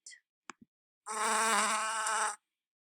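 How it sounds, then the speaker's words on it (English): A brief buzzing drone of a bee by flowers, lasting about a second after a few faint clicks, quiet with silence around it. "there's a bee by the flowers. It's going zzz, zzz, and it's quiet."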